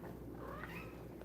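A kitten named Honey gives a faint, thin meow against a low steady background hum.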